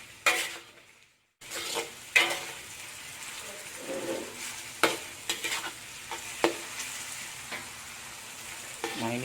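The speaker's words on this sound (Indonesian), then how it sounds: "kalau minyaknya sudah panas lalu kita masukkan bumbu yang kita cincang tadi. Kita goreng sampai harum ya." Chopped garlic and shallots fry in hot oil in a pan, giving a steady close sizzle broken by repeated sharp scrapes and clinks of stirring, after a short silent gap near the start.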